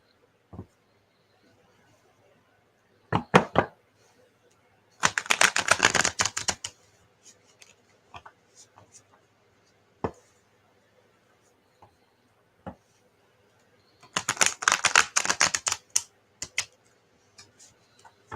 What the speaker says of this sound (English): If that one's good, let me shuffle this one.